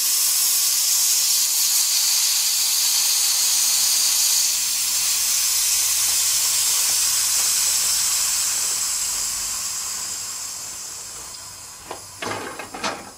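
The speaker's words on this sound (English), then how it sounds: "I'm going to remove the air pressure and see what we've got." A loud, continuous hiss of compressed air escaping from a wood-stabilising pressure pot, slowly fading, followed by a few faint clicks and knocks near the end.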